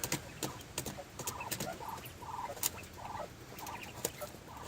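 A flock of quail on the ground, one pecking another over space, gives soft repeated calls and scattered pecking taps, fairly faint against a noisy outdoor background.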